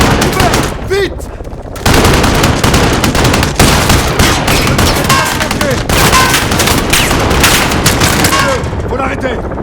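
Dense, sustained automatic gunfire dominates a Call of Duty Modern Warfare (2019) battle, rapid bursts layered with booms and battlefield noise throughout, with voices calling out in French beneath the din.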